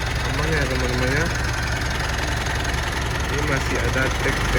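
A used car's engine idles steadily with a faint ticking in the engine bay during a used-car inspection, a constant mid-level hum with a person talking over it.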